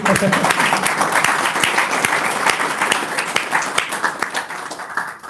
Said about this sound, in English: A loud applause to all of you.